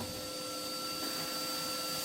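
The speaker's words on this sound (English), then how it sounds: "what we're going to do is just quickly hoover that little bit up there" A vacuum cleaner hoovers up soot beside an open fireplace during a chimney sweep, a loud, steady, unbroken whine and roar throughout.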